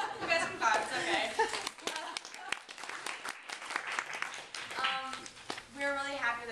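An audience at a children's show claps in scattered, uneven bursts, with chuckles and voices talking over the applause.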